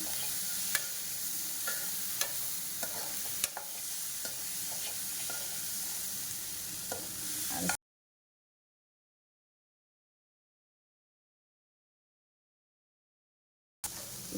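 A black-eyed pea snack mixture is stirred in a hot pan with a steady sizzle and scraping spoon strokes, then a long stretch of silence before the sizzling returns.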